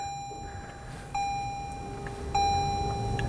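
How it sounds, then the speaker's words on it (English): A 2017 Toyota Prius Prime plug-in hybrid sounds a few soft electronic chimes after its push-button start, clear pure tones in a quiet cabin, one following another. "Oh, some chimes."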